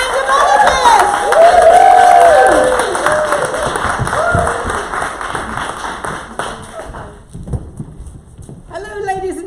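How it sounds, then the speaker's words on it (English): An audience applauds and cheers for an improv comedy group at an improv festival, a loud dense wash of clapping and whoops that peaks early then thins out and fades, with a voice briefly heard near the end. "Let's give a lovely applause for the Randomologists!"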